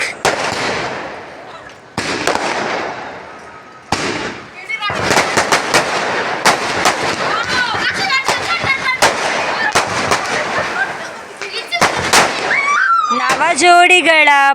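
Firecrackers burst in a rapid series of loud cracks and pops, some crackling in quick clusters, while people shout and cheer nearby at a Kannada Rajyotsava celebration in Bengaluru.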